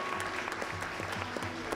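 Audience at an international forum applauding the panelists and moderators, a steady wash of many hands clapping at moderate distance with no pause over the short stretch.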